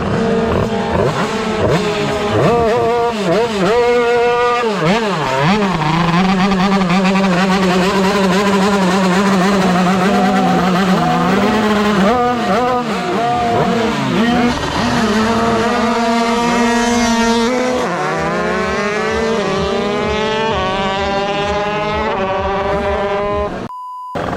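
50cc drag motorcycles at a championship final, small two-stroke engines screaming at high revs with rising pitch sweeps as several bikes rev and race, loud and continuous.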